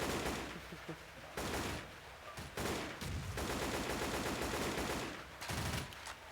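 Rapid, dense bursts of automatic gunfire from a video game, crackling in repeated volleys with brief pauses between them.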